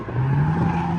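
A V8 race car skids up the main straight, a short, loud, steady tire squeal mixed with engine roar, close and alone for about a second.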